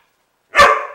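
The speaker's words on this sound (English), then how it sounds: "Now they're both gonna bark at it." A single sharp, loud bark from a dog reacting to a small robot bug, close by, rising abruptly out of silence and trailing off quickly.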